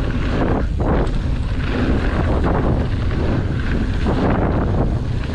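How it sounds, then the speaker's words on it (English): Strong wind buffeting a microphone outdoors in Death Valley, a continuous loud low rumble with gusty surges throughout and no speech. "I don't know if you'll be able to hear my narration at all because it might just be wind."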